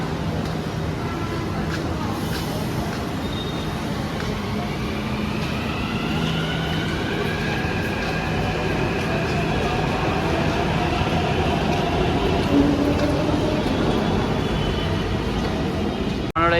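A Hyderabad metro train pulls into the Secunderabad station with a steady loud rumble and a rising electric whine that holds throughout, while faint voices carry across the platform.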